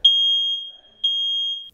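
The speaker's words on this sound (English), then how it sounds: "So did you just hear the alarm just right when you lifted up?" A household smoke detector going off indoors: two long, shrill, steady electronic beeps, each lasting under a second and separated by a short gap, heard fairly loud with no talking.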